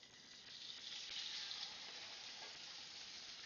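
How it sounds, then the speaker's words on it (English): Chicken sizzles steadily in a large skillet, a close, constant hiss of frying that swells slightly and then holds, with no talk. "Listen to that sizzle."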